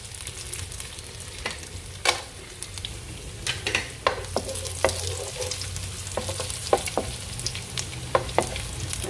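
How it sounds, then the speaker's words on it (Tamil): Raisins fry in ghee with a soft, steady sizzle, while a spoon stirs and scrapes the pan in irregular sharp clicks, all fairly quiet and close. "இப்போ திராட்சையை வந்து இந்த நெய்யிலேயே வதக்கி நம்ம இதை சேவ் பண்ணிக்குவோம்."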